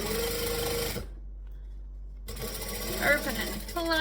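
A sewing machine stitches a quarter-inch seam along a fabric gusset, running in a fast, close, buzzing burst, stopping for about a second, then starting again. A voice talks over it.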